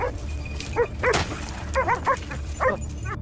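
Hunting dogs barking and yipping during a wild pig hunt, several sharp barks and whimpers in quick bursts, fairly close, over outdoor background noise.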